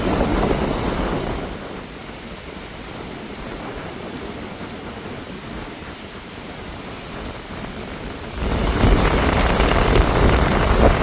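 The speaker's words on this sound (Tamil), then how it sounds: "இந்த கடற்கரை அலையல் வந்து எவ்வளோ கொந்தளிப்பாக வந்து" Strong wind buffets the microphone over a continuous roar of rough surf on a Jaffna beach during flooding, with waves surging louder toward the end.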